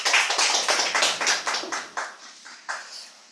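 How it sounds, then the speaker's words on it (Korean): Audience clapping at a church lecture event, starting as full applause and thinning into fewer, separate claps that fade out over a few seconds, fairly close. "큰 박수 부탁드립니다."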